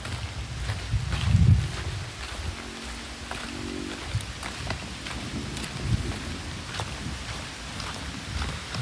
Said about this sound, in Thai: ตอนนี้ฝนปลอย